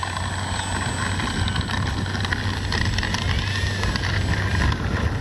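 Kavan Bristell B-23 radio-controlled plane droning overhead on a windy landing practice, a steady electric motor whine with faint pitch sweeps over constant wind buffeting, no speech.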